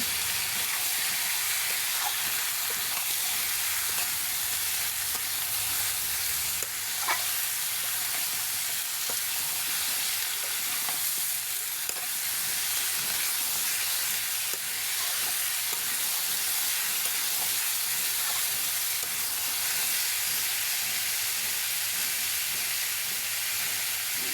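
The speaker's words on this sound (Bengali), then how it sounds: "আলুগুলো ভাজা ভাজা হয়ে গিয়েছে এবার লাউগুলো দিয়ে দেব" Potatoes and bottle gourd sizzle continuously in a frying pan, a close, even crackle and hiss with scattered clicks of stirring spread across the whole stretch and no voices.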